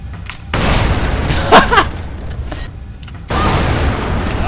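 Explosions in the Lara Croft and the Guardian of Light video game: a heavy booming blast rolls in, with rumbling, creaking mechanisms and a second loud burst later, close and loud against game noise.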